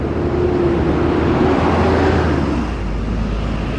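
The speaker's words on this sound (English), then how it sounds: "Bus." Bus passing on a street in Macau, a loud, steady engine and road rumble that swells close by and eases slightly toward the end, with no talking.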